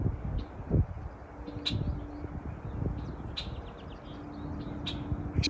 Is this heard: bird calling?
yes